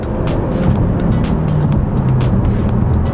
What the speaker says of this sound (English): It's got some turbo lag, that's for sure. It goes though, once it builds boost, it goes.